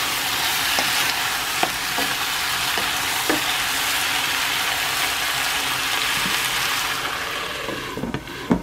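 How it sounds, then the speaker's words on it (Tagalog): Squid sautéing in hot cooking oil with garlic and onion for adobong pusit, a loud, steady sizzle and crackle throughout with a few sharp pops and utensil scrapes near the end, no speech. "Pabayaan nating masangkot siya doon sa cooking oil at sa bawang at saka sibuyas."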